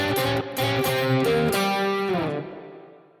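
An electric guitar with distortion and effects plays a short blues scale lick in the second position, a quick run of notes that holds a final bend and then fades out.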